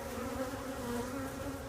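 Honeybees buzz around their queen in a colony under a shed floor, a soft steady hum with a sustained droning tone, faint and continuous with no voices.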